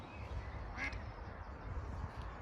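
A duck quacks once at Longlands Lake, a clear call over quiet outdoor ambience, fairly close, with no talk.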